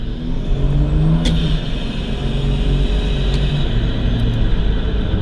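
A turbocharged Nissan Patrol with a TB45 engine accelerates with a loud, continuous close-up engine drone that rises in pitch. A couple of brief high whistle or whine bursts cut through the drone.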